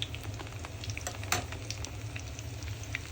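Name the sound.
fish kofta balls frying in oil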